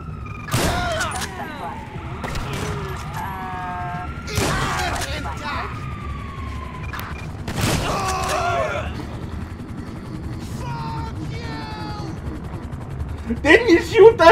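Gunfire in Grand Theft Auto V, several sharp loud bursts of shots spread across the scene amid sirens and helicopter-like whine, with a rapid flurry near the end.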